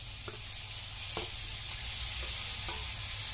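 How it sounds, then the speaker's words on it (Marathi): Tomatoes sizzle steadily in a hot pan while a spoon scrapes and stirs in a few light, evenly spaced strokes, and no one speaks. "तर आता लगेच आपण टोमॅटो टाकून घेतो, चांगलं भाजून"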